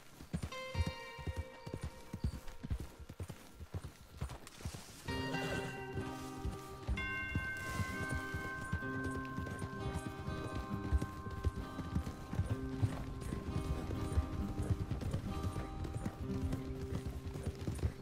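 Horse hooves clip-clop steadily in the Red Dead Redemption 2 video game, a continuous rhythmic trot over a backdrop of game music, with no talk.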